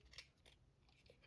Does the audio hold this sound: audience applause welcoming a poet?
no